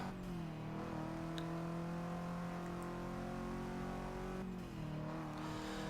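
Car engine in the racing game Forza 6 holds a loud, steady high-revving drone, pitch easing slightly before a quick gear-shift dip near the end, then climbing again.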